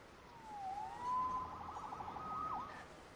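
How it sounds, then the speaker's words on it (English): An emergency siren wails at a moderate distance, its tone sweeping up and down in a few slow glides over a quiet background, with no voices. "Saved by the siren."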